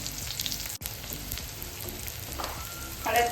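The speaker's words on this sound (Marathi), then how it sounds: "मिरची आणि लसूण चांगलं परतलं गेला की आपण थोडीशी हळद घालून घेणार आहोत।" Green chilli and garlic sauté in a pan for a Marathi radish bhaji, giving a close, steady sizzle with a brief stir and a sharper crackle near the end.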